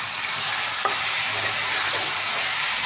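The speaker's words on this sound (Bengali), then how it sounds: "এগুলো কষাতে দেবো। মাছের মাথা, মাছের লেজ এবং এক পিস চাকা আর কি।" Fish head, tail and a steak piece sauté in a hot oiled pan, giving a loud, steady sizzle throughout with a faint stir or scrape partway through.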